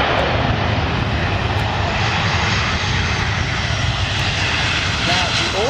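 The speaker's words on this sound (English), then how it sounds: "this Airbus A319 applied takeoff thrust and due to a technical malfunction had to abort the takeoff prior reaching V1" Airbus A319 jet engines roar loudly and steadily at takeoff thrust during an aborted takeoff, a continuous heavy rumble with broadband rushing noise heard from inside the aircraft.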